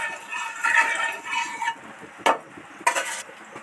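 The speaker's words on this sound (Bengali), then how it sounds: "তেলের মধ্যে সামান্য একটু হলুদ গুঁড়ো আর একটু নুন অ্যাড করব ভালো করে নেড়ে চেড়ে তেলের সাথে মিশিয়ে দেব" Turmeric powder and salt are stirred into hot sizzling oil in a pan. A soft frying hiss sits under close scraping strokes, and two sharper utensil knocks come toward the end.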